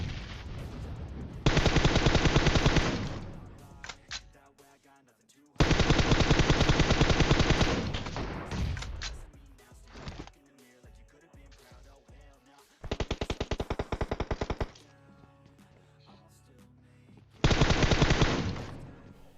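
Automatic gunfire in the video game PUBG Mobile: several long, loud sustained bursts separated by pauses, with quieter game sounds and shots between bursts.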